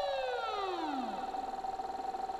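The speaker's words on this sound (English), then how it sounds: "The siren warns people about it." A flood warning siren in a video game winds down, its falling pitch sliding lower, while a steady tone holds and a pulsing drone continues after.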